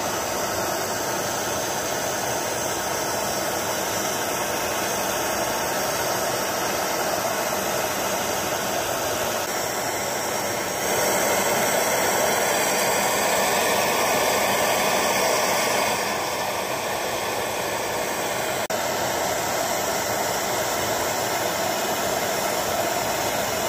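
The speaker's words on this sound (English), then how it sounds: "So let me get the torch ready here and we'll start glazing this crucible." A gas torch roars steadily while heating a ceramic crucible for a borax glaze, a broad, continuous hissing blast close by that swells a little in the middle and continues for the whole stretch.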